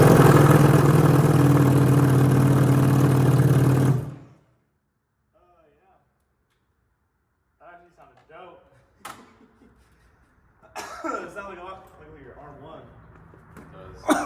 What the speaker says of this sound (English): See if it fires up, open header.